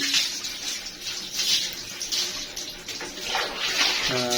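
Water pours and splashes steadily over a pregnant German Shepherd's head in a continuous gush, with a brief voice near the end.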